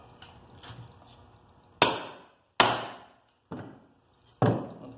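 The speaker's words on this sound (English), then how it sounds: "I just use that chisel, and there you can see you get a good cut on it" A chisel struck through 3/32 steel cable, giving four sharp, loud impacts at irregular intervals, each a bright metallic crack that decays quickly, with softer taps in between.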